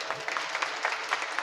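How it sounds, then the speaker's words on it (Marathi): An audience at a devotional kirtan applauds the singers and musicians, producing a brief, dense patter of clapping at moderate volume. "सर्व गायक वादक मंडळींसाठी एकदा जोरदार टाळ्या वाजवा"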